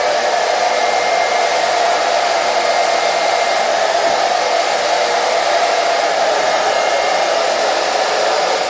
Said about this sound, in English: you put the hairdryer here and you get the air blowing all over the place